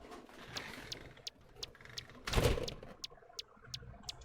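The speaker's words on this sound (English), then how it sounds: "It's a very long door opening and closing noise." In a Wolf RPG fangame, a long door opening and closing sound plays as a series of short, evenly spaced clicks with one heavier thunk in the middle, fairly faint over a soft background hum.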